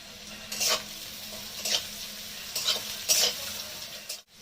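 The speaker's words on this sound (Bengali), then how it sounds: "তো আমার রসুন ভাজা বা পেঁয়াজ ভাজা হয়ে গেছে" Crushed garlic sizzles in hot oil in a pan with dried red chilli and black cumin seeds, a steady fry broken by four brisk stirring scrapes, close up and without talk.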